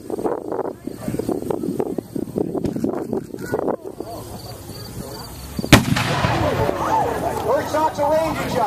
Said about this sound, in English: First shot's a ranging shot.